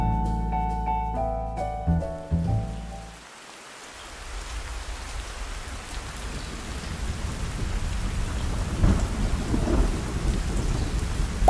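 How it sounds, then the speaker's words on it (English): Steady heavy rain pours down in New York City, with deep rumbles of thunder rolling early on before the downpour settles into a constant loud hiss. "Today it is raining cats and dogs"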